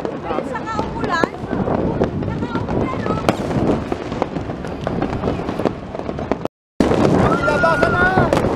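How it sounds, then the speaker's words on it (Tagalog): New Year's Eve fireworks and firecrackers in the Philippines crackle and pop in rapid, irregular bursts amid rain, with people shouting and talking close by throughout. "Mga paputok!"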